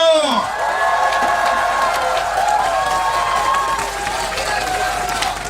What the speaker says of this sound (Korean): 한 사람 앞에 10명 이상 영업하실 분들만 박수 보내주십시오.